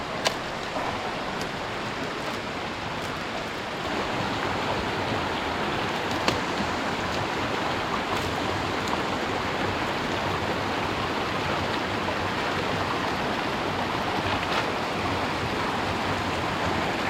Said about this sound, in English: we've made it back to Lick Creek. We just got to cross this